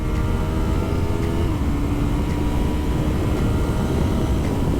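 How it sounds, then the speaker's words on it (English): An R3 sport bike engine held at wide-open throttle in sixth gear on a race track, producing a loud, unbroken drone with a slowly rising engine tone buried in heavy wind roar. "Gonna hit 6th gear wide open."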